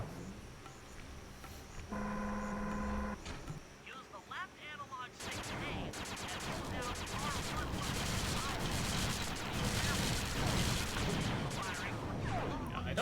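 Rapid gunfire and bursting impacts from shooting down enemy missiles in the video game Sly 2, a dense, loud barrage that takes over midway after quieter game tones, with a voice talking underneath.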